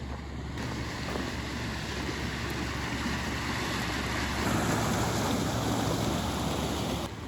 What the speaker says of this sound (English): all this water is running down the borrow pit and dumping back into the river right up here on this side of the bridge